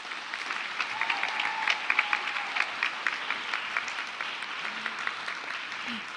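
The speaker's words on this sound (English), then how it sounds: "So let's give them a round of applause." Sustained applause from an audience at a high school class awards ceremony, dense steady clapping throughout with a few faint voices underneath.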